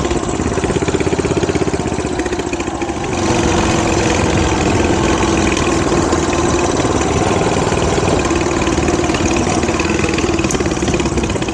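A repaired SR500 motorcycle engine runs loudly and close by, a steady rumbling drone that holds throughout with only a brief dip early on.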